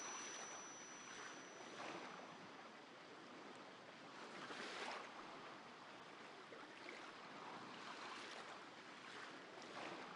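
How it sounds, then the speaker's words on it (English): Waves washing against the shore in the Granblue Fantasy video game, a steady broadband surf roar with gentle swells rising and falling throughout, with no voices. "Waves against the shore."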